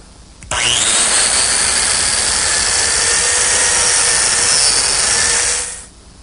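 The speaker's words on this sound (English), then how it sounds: "before I can make the corresponding slots in the legs themselves, I'm going to have to make an adjustment to the biscuit joiner" A biscuit joiner cuts a slot into a wooden table leg in one loud, close, continuous whine lasting about five seconds, then spins down.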